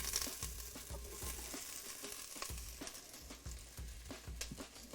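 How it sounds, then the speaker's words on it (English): Onions and mirepoix sauté in oil in a paella pan with a steady, close sizzle and occasional scraping bursts as they brown, with no voices. "so while those are sauteing down and caramelized"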